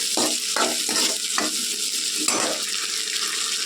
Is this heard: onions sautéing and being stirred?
yes